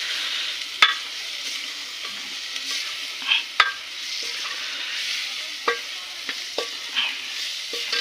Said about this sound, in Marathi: टाका टमाटे. फिरवा त्याला.